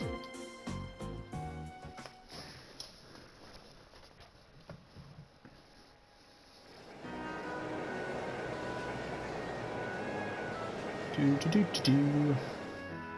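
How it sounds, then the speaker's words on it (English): Train running in the game Trails of Cold Steel: a steady rumbling roll with rhythmic clatter that swells louder midway, with intermittent tones and other game sounds on top. "On the train."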